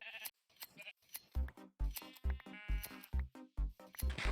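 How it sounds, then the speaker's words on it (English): Sheep in the Minecraft video game bleating repeatedly while their wool is sheared, a series of short, clear bleats in an uneven rhythm, close and fairly loud, with no talk. "Here's a little montage of me taking wool from these sheep."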